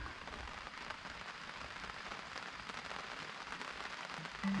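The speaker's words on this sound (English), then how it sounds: "The rain is starting." Light rain patters steadily on an Overland Vehicle Systems awning beside a Casita RV at a camp, a soft, even hiss of fine drops, fairly quiet and with no talking.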